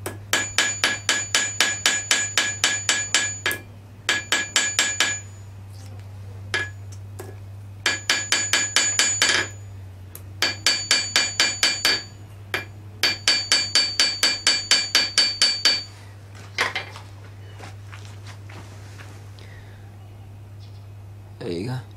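Hammer thinning the petal ends of a forged metal rose, with rapid, bright ringing blows in repeated bursts of several strikes each and short pauses between them, loud and close above a steady low hum.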